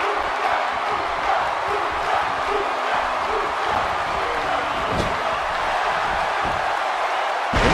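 Steady crowd roar fills a WWE 2K18 wrestling arena during a Rob Van Dam versus Kalisto one-on-one match at Payback 2017, holding loud and continuous with a brief swell near the end.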